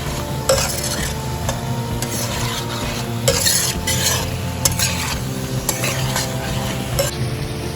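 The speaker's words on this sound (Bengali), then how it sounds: "এবার হালকা হাতে নেড়ে দেব।" A pan of lemon pepper chicken gravy with black pepper is stirred gently: a steady soft simmering sizzle runs throughout, punctuated by scraping strokes and light clinks of a utensil against the pan, close and fairly loud with no talking.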